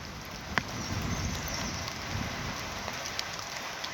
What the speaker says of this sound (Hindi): कितने बड़े बड़े बूंदे पड़ रही है बारिश की